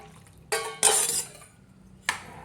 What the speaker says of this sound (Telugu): ఇలా కలుపుకున్న తర్వాత ఈ పంచదార పాకంలో పోసుకోవాలి